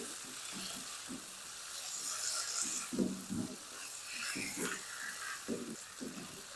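Tikka boti meat frying in a pan for Bakra Eid, a steady dense sizzle with soft stirring scrapes and clicks throughout, close and fairly loud.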